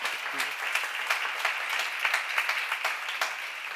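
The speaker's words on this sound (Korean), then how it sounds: "본 사람만 박수야." Audience applause breaks out at a church seminar on the Gospel of John, a steady wash of many hands clapping that lasts the whole stretch at moderate loudness, with a brief murmur of voices near the start.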